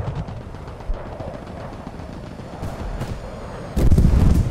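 Bombs explode in the War Thunder tank game with a low rumbling boom, a couple of sharper blasts midway, then a louder heavy explosion near the end over continuous battle noise.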